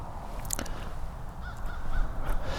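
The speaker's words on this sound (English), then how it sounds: "There's some birds on here." Crows cawing outdoors in a calm open setting, several harsh caws at moderate distance repeating over steady ambient background noise, with no voices.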